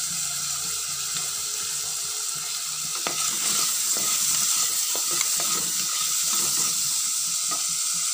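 Two chillies and a tomato sautéing in a pan for a fish curry base: a steady hissing sizzle throughout, with scattered light stirring clicks picking up in the second half, and no voices.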